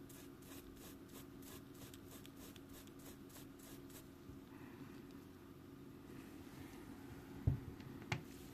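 Fine brush pad refinishing the metal of a Tokyoflash Rogue watch, soft back-and-forth scrubbing strokes in quick rhythmic passes that fade into a faint rasp, close but quiet, with a couple of small knocks near the end.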